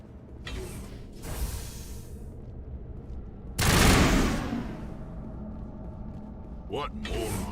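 Turret gunfire in a video game, heard as several short bursts of rattling fire, with one loud, close burst in the middle and mechanical clanks between them.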